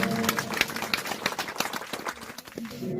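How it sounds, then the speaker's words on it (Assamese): An audience at a birthday celebration in Sadiya claps, producing a dense, uneven patter of hand claps that runs continuously at moderate volume. "এবাৰ জোৰকে হাত চাপৰি বজাব লাগিব"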